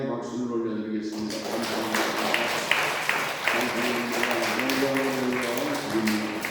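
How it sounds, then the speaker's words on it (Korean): Church congregation applauding during a Sunday worship service: sustained, dense clapping from a large crowd, fairly loud and steady, with organ or keyboard tones sounding beneath. "우리 하나님 앞에 감사와 찬송과 영광의 박수를 올려드리겠습니다"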